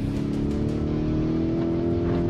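A 2023 Lamborghini Urus Performante in rally mode on the dirt track at Bren Raceway near Bangalore, its engine giving a loud, steady, close drone without pauses.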